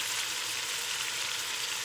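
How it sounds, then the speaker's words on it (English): Soy sauce hits a pan of chicken cooking in butter, producing a steady, dense hiss of sizzling that stays even and close throughout, with no voices. "I'll try about a tablespoon or so of soy sauce"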